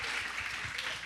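Audience applause at a public research talk on the economy, a brief steady wash of many hands clapping together, fairly faint and heard alone without any talking over it.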